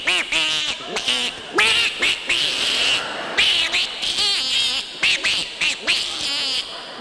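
Two ordinary barnyard ducks quack in a comic radio show sound effect, loud, close and nasal, in rapid overlapping bursts that stop and restart in short choppy phrases.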